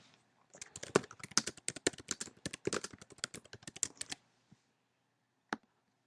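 Typing on a computer keyboard, close and crisp, with a rapid, uneven run of key clicks lasting about four seconds, then two isolated taps after a pause.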